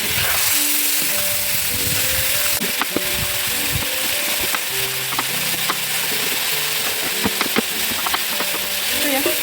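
Large chunks of carrot sizzle loudly in an oiled pan while being stirred for lagman, with constant frying crackle and scattered scrapes and knocks of the utensil.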